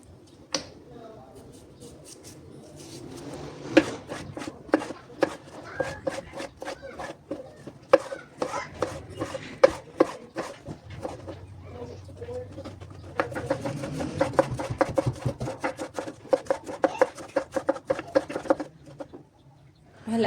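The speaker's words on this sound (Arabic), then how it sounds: "بعد ما قطعت الخيار بشكل كتير ناعم" Knife finely chopping cucumber on a board for a cucumber yogurt salad, a long run of quick, crisp, close taps with brief pauses and a faster, denser stretch near the end.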